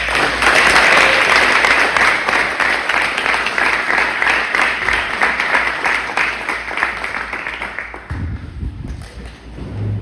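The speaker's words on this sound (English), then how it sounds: "Give these guys a big round of applause." Loud, close applause fills the room at a school awards banquet for a varsity football team, fast steady clapping that thins and fades near the end, followed by a few thuds and shuffling.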